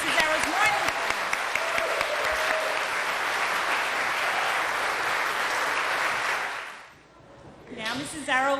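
Sustained audience applause at a graduation ceremony, a dense steady wash of many hands clapping that fills most of the clip, then fades out and gives way to a voice speaking near the end.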